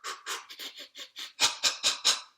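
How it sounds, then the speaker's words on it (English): A man's rough, heavy breathing repeats in about ten quick, forceful puffs close to the mic, growing louder and harsher toward the end. "I'm breathing rough."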